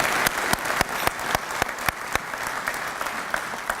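Applause at a business breakfast for a Booker T. Washington high school student: a crowd claps steadily, with a few sharp, loud claps close by standing out in a fairly regular rhythm over the general patter.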